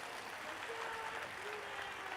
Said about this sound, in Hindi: एक बार जोरदार ताली बजाओ इन सनातन अवलंबियों को।